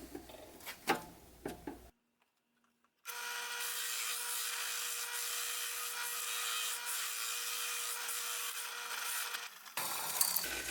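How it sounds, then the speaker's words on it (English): A drill press fitted with a 2-inch Forstner bit bores a hole into a wood corner, a steady loud whirring grind lasting several seconds after a brief silence, framed by quieter handling clatter before and after. "With this 2-inch Forstner bit mounted to the drill press"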